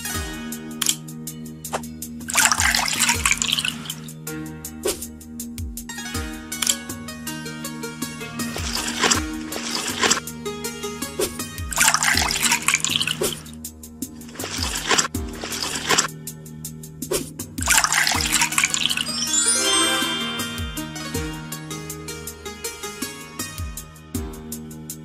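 Tea being poured in a kids' baby-care video game, with repeated cartoon trickling and sloshing bursts over cheerful game music for about twenty-five seconds, with no voices.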